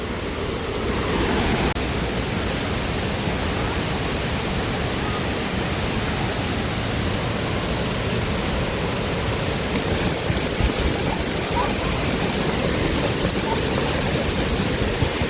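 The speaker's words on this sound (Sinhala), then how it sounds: "මේ තනිකර දියවෙනි ඇල්ලෙන් එන වතුර පාර තමයි" Water pours down the Diyawini Ella waterfall near Balangoda, Sri Lanka, as a dense, steady, loud roar of rushing spray that fills the whole stretch without a break or any voices.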